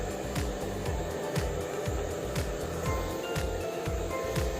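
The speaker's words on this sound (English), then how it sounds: "Next, move the hair dryer on the hair little by little" A handheld hair dryer blows steadily on hair, a continuous broadband whoosh with a low motor hum that pulses faintly as the dryer is moved back and forth, close and fairly loud throughout.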